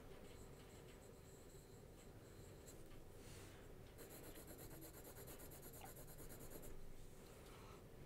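Faber-Castell 2B jumbo pencil shading across paper, a steady soft scratchy rubbing that continues throughout, close and quiet, with no talking.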